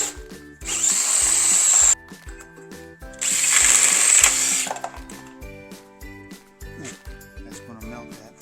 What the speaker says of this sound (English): Now we got to drill our holes.